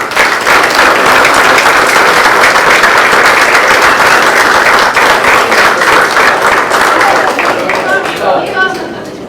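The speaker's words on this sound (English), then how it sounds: "Another round of applause, please." Audience at a board meeting breaks into sustained, loud applause, dense clapping from many hands holding steady for several seconds before tapering off at the end.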